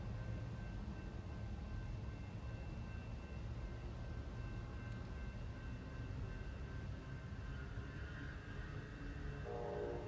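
A train runs along tracks right beside a train station, a steady low rumble with a faint sustained horn-like tone, continuous and fairly close, with no talking.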